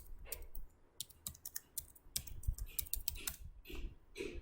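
A command is typed on a computer keyboard in irregular bursts of quiet, close clicking keystrokes, with no talking over them.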